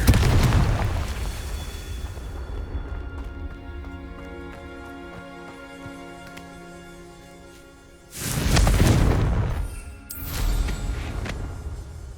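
A Confringo blasting spell explodes in the Hogwarts Legacy video game, opening with a heavy boom that decays into a long, low rumbling tail, followed by a second loud blast near the end.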